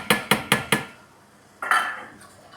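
A spoon stirs water with glucose, sugar and fruit pectin in a pot as it warms toward a boil: four quick, even metallic clinks, then a longer, softer scraping swirl. No one speaks.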